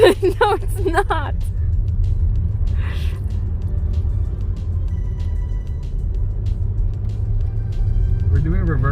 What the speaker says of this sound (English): We're doing reverse donuts right now